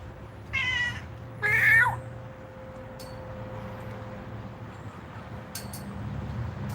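Two cats give a pair of short, clear meows close by, one after the other, followed by a quiet background hum and faint clinks.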